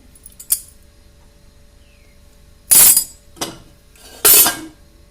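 A few separate metallic clinks and clatters, with a short quiet gap between them, as a dish is set on a plate inside a pressure cooker.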